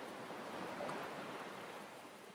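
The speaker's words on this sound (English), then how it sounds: "Now we can hear the, the waves." Ocean waves in the game Raft make a steady, soft, hissing wash that stays even and unbroken throughout, with no voices.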